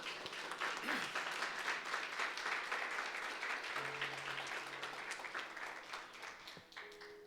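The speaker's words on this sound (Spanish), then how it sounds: "¿Cuántos le dan un aplauso al Señor?" A church congregation claps together, steady, sustained applause from many people filling the space, with a few faint voices and tones underneath.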